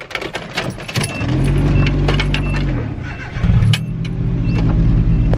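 A Nissan G35 car engine starts and settles into a steady, close idle with a low rumble, rising briefly in revs partway through, with a faint jingle of keys at the start.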